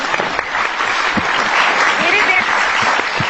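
A room full of people applauding at a school program, a dense, steady patter of clapping that holds at an even level throughout.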